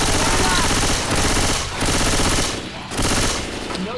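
Rapid automatic gunfire shooting at zombies in the video game Left 4 Dead 2, loud, dense bursts of several seconds with two short pauses, firing close and continuous.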